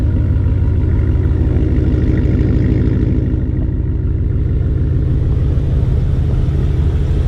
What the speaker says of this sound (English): it's got a great sound, not too crazy but just enough to let you know you got a V8.